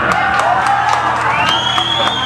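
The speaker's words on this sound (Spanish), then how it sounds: "Un aplauso para" A crowd cheers and whoops at a metal concert, a dense, steady roar of voices with rising shouts and scattered claps, loud and close throughout.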